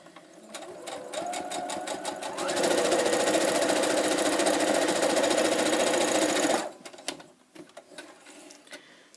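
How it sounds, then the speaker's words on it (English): A sewing machine runs a straight stitch down a seam to catch the raw edge underneath. It starts with slower stitching, speeds into a loud, steady mechanical whir for several seconds, then cuts off into a few quieter clicks. "I'm going to sew a straight stitch down the middle of that, catching the raw edge underneath."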